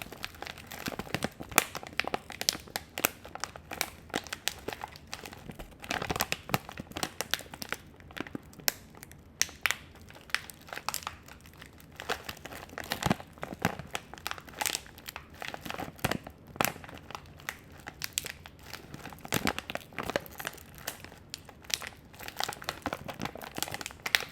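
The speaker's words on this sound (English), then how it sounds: "It's more crinkly when it's closed like this." A bag of freeze-dried candy crinkles up close in a quiet, soft-spoken ASMR setting, with irregular crackling handling sounds that run on for over twenty seconds.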